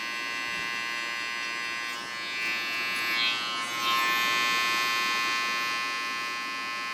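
A detachable hair clipper buzzes steadily and close during a fade haircut, its even electric whine swelling slightly as it moves through the hair.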